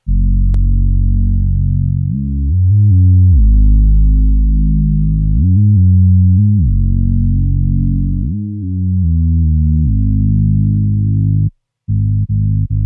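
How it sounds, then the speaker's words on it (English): A deep, smooth Moog-style synthesizer bass plays a slow melody of sustained low notes with gliding pitch changes. It sounds alone and loud, then stops abruptly near the end. "For my Synth Bass, I'm using a preset called Classic Moog Bass in Analog Lab 5."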